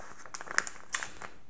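A small plastic accessory bag from a Leofoto LS-324C tripod box gives a few faint, close crinkles and crackles against quiet room tone.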